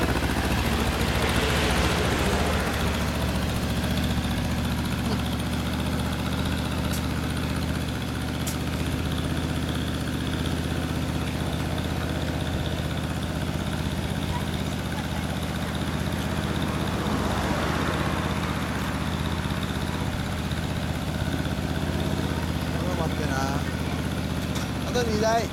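2017 Kawasaki Ninja 250 idling with a BEET Nassert exhaust, a steady low rumble held throughout, with voices talking nearby over it.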